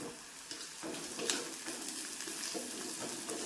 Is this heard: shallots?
yes